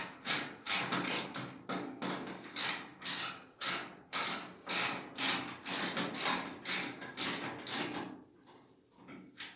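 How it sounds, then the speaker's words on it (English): Rapid ratcheting clicks from a 1/4-inch socket wrench loosening bolts on a clothes dryer, in repeated bursts, each stroke a fast metallic rattle, close and fairly loud, with no talking. "I'm using a 1/4-inch socket. So we'll get some of these bolts loose."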